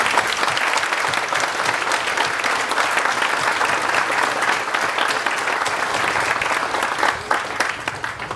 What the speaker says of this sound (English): Would you please join me with your applause for her fabulous performance this morning?